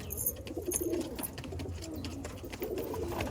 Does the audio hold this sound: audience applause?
no